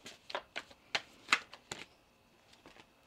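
Tarot cards shuffled by hand, a run of crisp, close riffling bursts in an uneven rhythm, louder in the middle and fading to lighter flicks at the end, with no talk.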